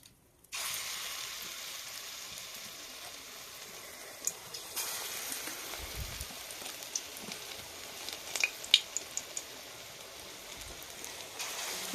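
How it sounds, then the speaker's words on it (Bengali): Lentil fritters (bora) made with onion, coriander and besan fry in hot oil, a steady soft crackling hiss with scattered sharper pops throughout, and no voices. "এবার এক এক করে বড়াগুলো ভেজে নেব"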